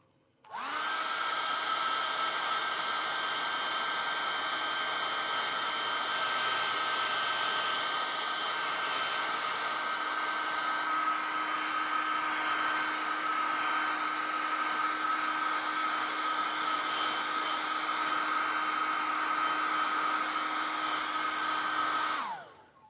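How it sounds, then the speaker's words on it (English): A hair dryer blows steadily for about twenty seconds during a painting session, a loud continuous whir with a constant motor hum and a tone that shifts partway through, with no talk. "Hair dryer time."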